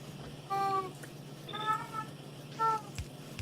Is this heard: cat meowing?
yes